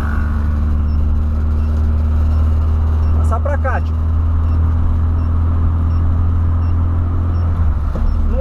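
A Volkswagen Voyage with an AP 1.6 alcohol engine drives at a steady hum, a loud low drone that carries on without pause while someone speaks briefly over it.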